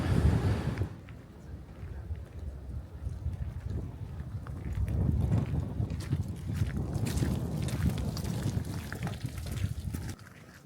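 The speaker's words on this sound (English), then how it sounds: "The wind is starting to pick up a little bit more." Gusty wind buffets the microphone on the Seneca Rocks hiking trail in West Virginia, a low rumbling roar that swells and eases in waves, with a faint footstep or two underneath.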